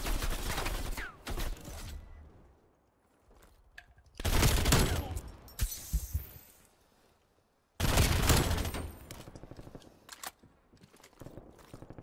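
Loud bursts of gunfire in a video game, three separate volleys with quiet pauses between them, plus faint clicks and thuds in the gaps.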